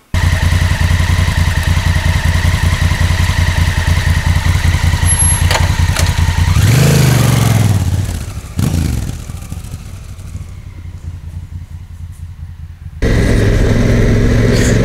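A Honda Africa Twin motorcycle on Telegraph Road through the Otway Forest, Victoria: a loud steady engine drone as the bike rides, dipping with a rush of wind midway, easing quieter, then surging back up near the end.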